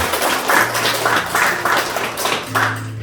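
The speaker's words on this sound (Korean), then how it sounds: "한번 일어나시고 박수로 우리가" Church congregation clapping together during a Sunday worship service in a Korean church, a loud continuous round of hands with rhythmic surges in intensity throughout, with a low hum beneath.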